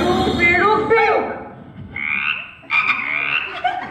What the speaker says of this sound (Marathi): बेडूक बेडूक बेडूक